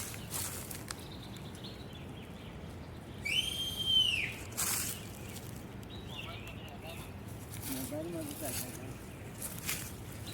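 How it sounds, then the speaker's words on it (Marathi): A signal whistle blown in a hillside forest during a trip to gather wild honey, one clear rising-and-falling tone lasting about a second, heard over steady outdoor ambience with faint bird calls. "आता आपण शिट्टी वाजवून संकेत देणार आहोत"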